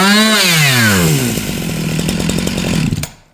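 Husqvarna 353 chainsaw running with no oil on the bar: the engine revs loudly, winds down to a rough, chattering idle, then cuts off abruptly near the end.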